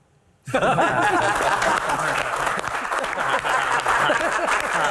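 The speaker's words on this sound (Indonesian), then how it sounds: "tepuk tangan untuk Cak Lontong" Sudden loud audience applause bursts in after a brief silence and holds steady for a comedian at a campus Q&A comedy panel, a sustained crowd roar of clapping with faint voices mixed in.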